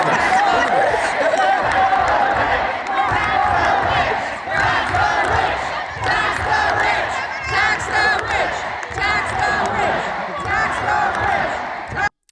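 A large rally crowd reacting to a political speech, with loud sustained cheering, shouting and roaring that runs for about twelve seconds before cutting off abruptly, dense and close.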